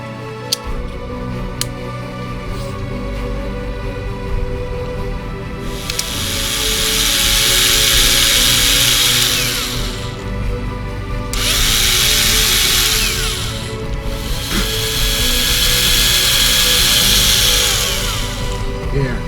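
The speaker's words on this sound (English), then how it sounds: "we can put a small drill and we can actually drill an opening just for the wire to pass" A small power drill bores a wire opening in a plastic nacelle pylon of a 1979 AMT Star Trek Enterprise refit model kit. It runs in two loud, steady whirring bursts over background noise, with a short pause between them.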